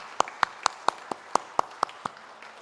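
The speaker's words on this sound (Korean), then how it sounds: "섬겨주신 모든 분들에게 한번 박수 보내주겠습니다" Sparse claps at a church Sunday service, about nine sharp separate hand claps spaced roughly evenly over a couple of seconds, fairly quiet and without any talk.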